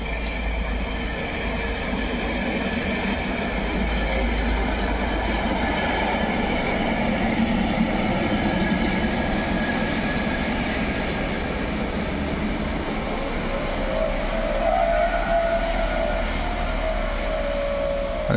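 Train braking at Łowicz Główny railway station: continuous heavy rumble of rolling wagons with clattering wheels and a rising brake squeal toward the end, close and loud.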